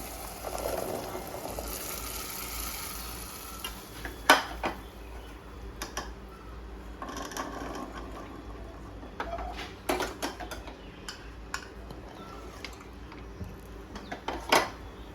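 Chickpeas are stirred with sweet jaggery and tamarind chutney for dahi chana chaat, giving soft clinks of a spoon against a bowl with a few sharper knocks, close and quiet with no talk.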